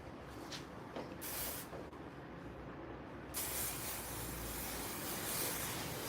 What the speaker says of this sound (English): I just sprayed her with a little bit of hairspray